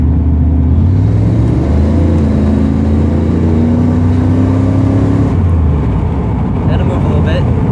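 The 350 small-block LT1 V8 of a 1995 Chevy Camaro Z28 rumbles loud and close, its pitch sweeping up and falling back as it is revved, then settling to a deep steady idle.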